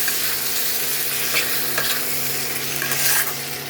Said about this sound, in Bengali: এখন আমি আলুগুলো দিয়ে দেবো, দিয়ে ভালো করে মিশিয়ে নেব